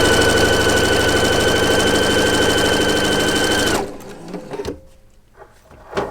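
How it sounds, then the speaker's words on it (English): A sewing machine stitches quilt block fabric for flying geese blocks, a loud steady close whir for about four seconds, then stops, followed by faint handling sounds. "And then we'll sew going this direction."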